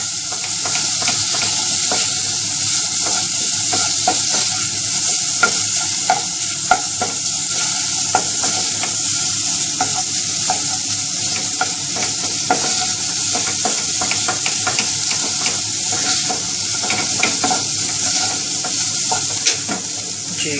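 Minced meat and green chillies stir-fry in a pan, a constant loud sizzle with frequent rhythmic scraping and clinking of a spatula against the metal.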